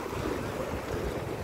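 Ocean waves splash and wash along a shore beside a bike path, a continuous rushing surf blended with wind buffeting the microphone, fairly loud and steady with no talking.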